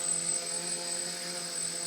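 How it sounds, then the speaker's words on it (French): A GPS-guided drone flies back to its takeoff point, its propellers giving a steady, even whine with a thin high tone, constant and fairly close throughout. "peu importe le sens du drone, il revient à sa position de la première mise des gaz"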